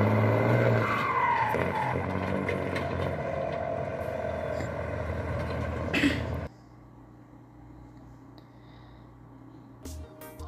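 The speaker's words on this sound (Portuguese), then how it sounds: "só escutando o ronco do motor aí" A Mercedes-Benz 1318 truck fitted with a 1620 engine rumbles deeply and close by for about six seconds, then the sound cuts off abruptly to quiet background.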